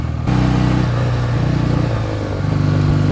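A 1967 BSA Spitfire Mk III twin motorcycle engine runs steadily while riding, a close, loud throbbing drone that dips briefly and then swells again as the throttle opens.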